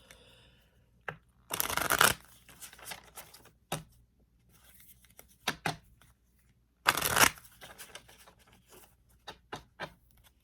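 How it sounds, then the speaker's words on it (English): Two bursts of cards being shuffled, a riffle around two seconds in and another near seven, with quiet soft handling and taps between. "so I'm going to shuffle"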